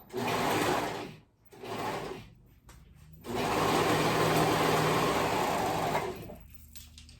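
A sewing machine runs up close while sewing a ruffle on pants, buzzing in steady runs with brief stops between them, then one long continuous stretch that ends in quieter handling sounds.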